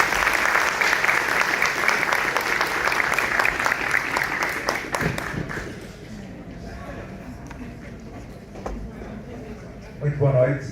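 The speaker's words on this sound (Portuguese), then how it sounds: "uma salva de palmas" An audience at a general assembly of cultural, recreational and sports associations claps loudly for about five seconds, the applause fading out into low murmuring and a bit of speech near the end.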